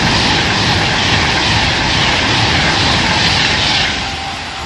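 Virgin Class 390 passenger train passing northbound at Hartford, a loud, close, continuous roar of rushing wheels and air that eases slightly toward the end, alone with no talk.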